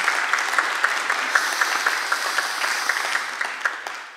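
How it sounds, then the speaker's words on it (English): Audience applause at a political education talk event, steady clapping from a crowd with sharp individual claps standing out, sustained through the whole stretch and fading slightly at the end. "So give them a round of applause."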